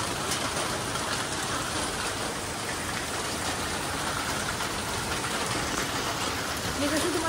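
Heavy rain pours down steadily near old village temples in Kasba, the ground turned to mud, forming a loud, continuous hiss of downpour with no break throughout.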